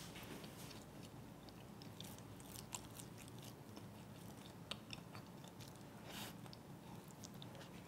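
Someone eats a hot, soft, fluffy flower-shaped steamed bun up close, with quiet moist chewing and occasional small bites over a steady low background hiss.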